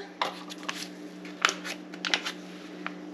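A package, apparently with foam inside, being cut open: a handful of short, crisp snips and rips close by, separated by pauses, over a faint steady hum.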